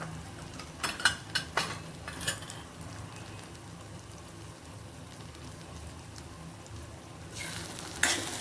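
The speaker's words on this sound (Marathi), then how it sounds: "छान मिक्स करून घ्यायचे आहे" Bhogichi bhaji, a mixed vegetable dish, being stirred and fried in a pan, with a soft steady sizzle and a few scraping stirs near the start and end, no talking.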